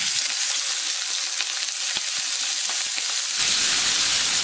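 Gourd-leaf and prawn parcels (paturi) frying in about a quarter cup of hot oil, a loud continuous close sizzle that swells louder near the end, with no voices.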